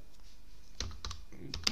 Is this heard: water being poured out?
no